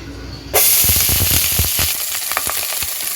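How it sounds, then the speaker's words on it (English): Onions hit hot oil in a pot and start a sudden, loud sizzle that keeps going as a steady hiss, with scattered pops and the clatter of stirring. "I added a little bit of oil. And now we're going to go in with some onions"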